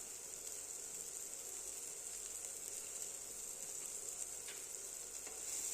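Cumin powder, fennel and turmeric sizzle in a pan while being stirred, making a steady, faint, close hiss of frying that carries on evenly throughout, with no speech.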